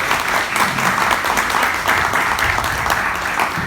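An audience at an academic talk applauding, continuous dense clapping from many hands, loud and even for the whole stretch.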